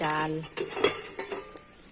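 A lid set over a pot of nearly cooked lentils on a wood fire, giving a couple of close metallic clanks and a brief rattle after a voice speaks at the start.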